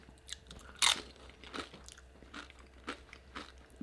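Someone bites into house-made tortilla chips and crunches on them up close, with one sharp loud crack followed by softer, irregular crunching and chewing and no talk.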